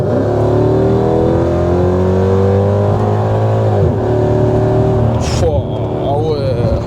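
A Mercedes E55 AMG V8 accelerates hard, its engine note climbing steadily in a loud, sustained roar that dips briefly before revving up again, with voices talking over it.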